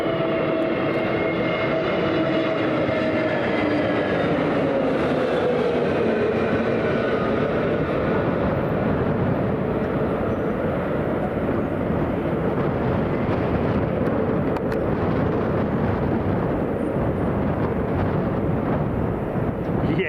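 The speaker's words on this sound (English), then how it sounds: "Listen to the auto thrust," An airliner at windy London Heathrow roars loudly and continuously as its engines spool under auto thrust, with shifting tonal whines riding over heavy broadband rumble for the full stretch.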